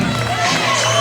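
A loud, rowdy crowd of cadets roars at a wrestling event at Lincoln's Challenge Academy, a dense, continuous wash of cheering and shouting close around, with a voice talking over it.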